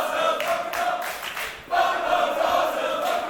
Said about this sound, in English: Crowd letting their thoughts know